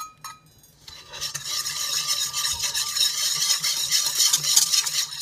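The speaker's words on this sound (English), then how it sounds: "And now we dump in a third cup of brown sugar and stir that in with the yeast." A spoon stirs brown sugar into a yeast mixture for pretzel dough, a steady scraping, swishing rhythm against the bowl that starts after a brief pause and continues close and fairly loud throughout.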